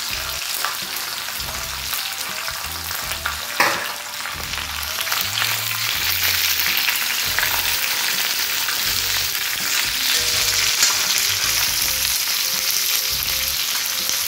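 Cubed onions frying in a pan for mutton fry. A loud, steady sizzle runs throughout, with an occasional stirring clatter, close up and without speech.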